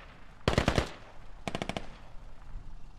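Two short bursts of automatic gunfire in a military shooter game, a rapid five-shot volley followed a second later by another quick burst, loud and close with no talking.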